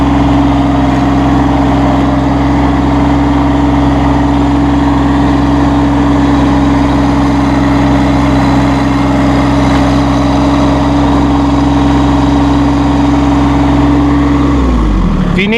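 Massey Ferguson GC1725M sub-compact tractor diesel engine running loud and close at steady high revs with a constant droning hum, then dropping off sharply at the very end.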